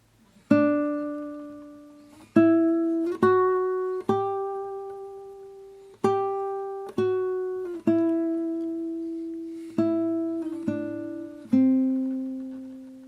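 A slow, simple melody of about a dozen single piano-like notes, each struck cleanly and left to ring out before the next.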